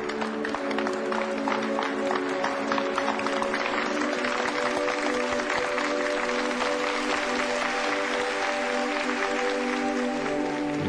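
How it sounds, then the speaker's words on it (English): A crowd applauds returning soldiers from combat, broad steady clapping sustained for the full stretch with no break or voices on top. "Let's give them a round of applause."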